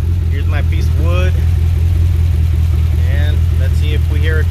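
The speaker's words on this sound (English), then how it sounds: "All right, got the car fired up." A Chevy Camaro engine with misfire codes runs steadily with a low, even hum while someone talks over it.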